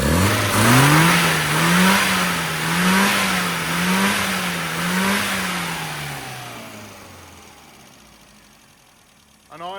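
A tuned Mini with a 998 engine runs close by, its loud buzzy exhaust note wavering up and down in repeated small revs, then fading to a lower, quieter idle.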